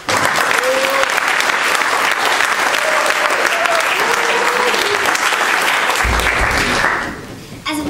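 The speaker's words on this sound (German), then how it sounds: "Dann bitte ich noch für einen, um einen Applaus." Loud, dense applause from an audience at an open-stage music event, sustained for several seconds before tapering off near the end, with a few voices calling out over the clapping.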